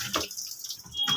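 Water is scooped from a basin and poured out while washing something, a short close splash and trickle with quieter gaps in between.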